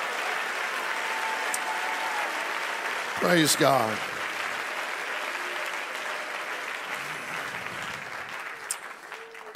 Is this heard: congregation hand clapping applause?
yes